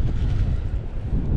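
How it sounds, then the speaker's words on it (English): Steady, loud wind buffets the microphone, a continuous low rumbling roar with no breaks. "Pretty windy"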